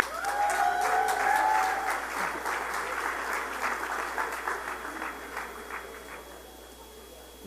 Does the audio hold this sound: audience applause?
yes